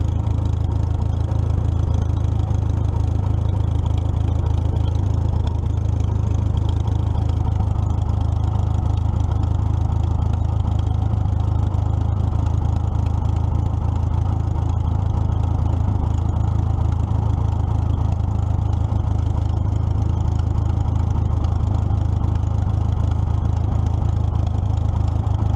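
A 1944 Minneapolis Moline ZTU tractor engine idles low and steady, its deep even rumble running close and loud without a break.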